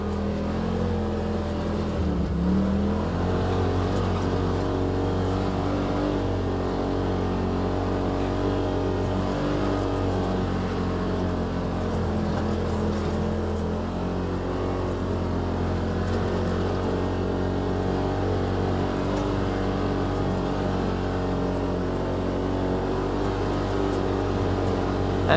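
A 2018 Polaris RZR XP Turbo side-by-side fitted with Tusk Terrabite tires climbing through snow, its engine droning in a steady loud low rumble that holds nearly constant with slight rises in pitch, no voices.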